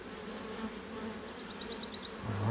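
Honey bee drones drone steadily around an open hive during a colony split, a low continuous hum that stays even throughout and swells slightly near the end, with a faint chirping tone briefly riding above it.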